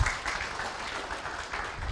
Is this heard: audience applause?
yes